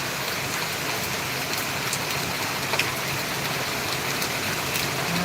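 Steady rain falls in a monsoon downpour, a dense, even hiss of drops continuing without pause, with a faint engine hum in the background.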